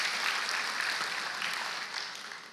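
Congregation at a church service applauding, a dense wash of hand claps that is moderately loud and steady, then tapers slightly toward the end.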